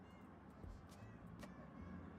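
A faint, short cat meow repeats from the Silly Linguine Cat Simulator video game as the cat is petted, a couple of soft cries under low background hum.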